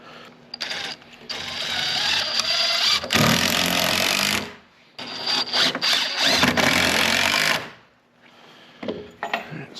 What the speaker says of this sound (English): maybe I'll just toenail some screws down in.